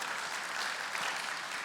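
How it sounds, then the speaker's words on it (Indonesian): Church congregation at JCC Cijantung applauding during a sermon, a short burst of full, even clapping from many people, steady throughout and heard alone without speech. "Berikan tepuk tangan buat Tuhan Yesus."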